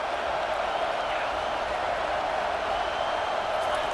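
A stadium crowd at a football game keeps up a dense, steady roar of cheering for the full few seconds, loud and unbroken, with no distinct talk.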